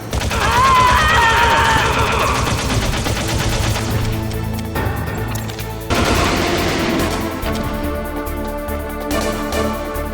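Loud, dense bursts of automatic gunfire and overlapping shots fill a Metal Gear Solid video game cutscene, with sustained volleys, booming impacts and a shifting sound mix.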